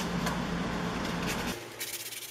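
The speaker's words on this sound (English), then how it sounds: "Then I get into the sanding." Steady abrasive rubbing of sandpaper on a Seahawks sign, close and continuous, easing off slightly near the end.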